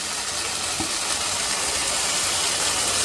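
Ginger and garlic frying in a pan for a rohu fish curry, a steady loud sizzle and hiss that runs unbroken throughout with no talking.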